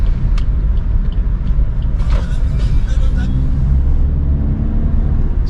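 A 2021 Maruti Suzuki XL6 on a test drive, its engine and road noise a steady low rumble from inside the cabin, with a voice speaking briefly over the drone.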